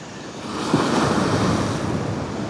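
Ocean swell surges and splashes against a rock wall at Kuta Beach, Bali, a loud, close, sustained rushing wash with wind noise buffeting the microphone.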